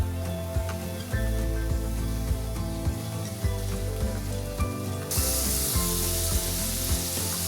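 Potato strips for French fries frying in hot oil, a steady loud sizzle and bubbling hiss that continues throughout, with a few light clinks near the start.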